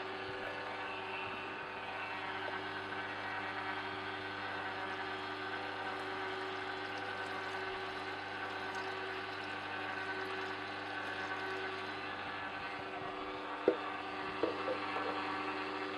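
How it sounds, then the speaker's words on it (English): A Sana commercial slow juicer runs with water poured through to clean its rubber blades, giving a faint, steady low whir and watery wash with a couple of small knocks near the end. "all I'll do is turn on the unit, pour the water in here, let it run for a bit, drain it"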